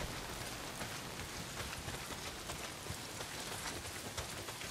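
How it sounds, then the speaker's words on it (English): Heavy rain pours in the video game Days Gone, a dense, steady hiss of drops on surfaces with faint scattered pattering, continuous and fairly quiet, with no voices. "Well, not if it's pissing down rain."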